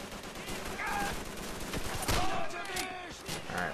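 Gunfire rattles through a Call of Duty 3 battle, with a few sharp shots and scattered distant firing over game ambience while someone speaks in the background.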